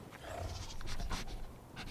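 A dog pants softly in a Star Wars Ahsoka episode, quick breaths repeating in a steady rhythm at close range with a faint whimpering edge, set against a low background rumble.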